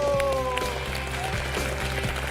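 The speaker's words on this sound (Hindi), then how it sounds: "अरे तालियां बजती रहनी चाहिए।" Applause on the set of a celebrity cooking competition show, scattered clapping under a steady hum and background music tones, moderately loud and continuous without speech.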